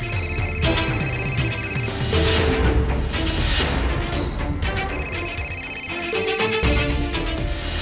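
A phone ringtone plays loudly and steadily, a repeating tonal melody over a busy background for several seconds, in a Hindi family drama scene.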